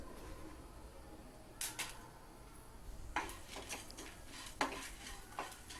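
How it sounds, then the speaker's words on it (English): Gram dal, urad dal, coriander seeds and red chilies dry-roasting in a pan over medium flame, heard as a quiet, close bed of faint sizzle broken by a few scraping, rattling stirs of the spoon against the metal. "Roast this over medium flame until the dal turns light brown."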